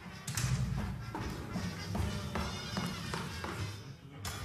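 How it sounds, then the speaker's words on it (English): A radio-drama sound effect of heavy footsteps walking to a taxi cab thuds at a steady pace, with irregular taps and bumps over a dense background. "Can you hear he's walking to the cab now?"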